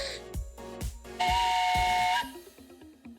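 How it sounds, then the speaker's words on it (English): Stream alert sound effect of a train whistle: a sustained, loud steam whistle tone held for about a second, framed by deep rhythmic chugging thumps and hiss. "train whistle!"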